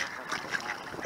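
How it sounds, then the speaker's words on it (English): A wild dabbling duck quacks in a few short nasal calls outdoors in cold, windy, wet Seattle weather, close and fairly loud over wind and background noise. "The prettiest duck in Seattle, Miss Lily"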